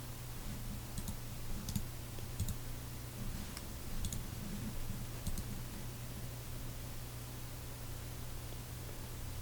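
Several sharp computer mouse clicks, scattered irregularly and close, over a steady low hum and faint hiss while navigating filter menus in Microsoft Access.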